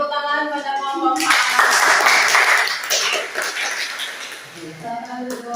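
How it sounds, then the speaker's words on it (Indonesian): A classroom audience claps for a group's presentation, a steady burst of applause lasting a couple of seconds, with a voice speaking before and after it. "Beri tepuk tangan pada kelompok 4"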